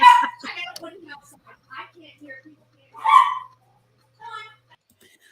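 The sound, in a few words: dog barking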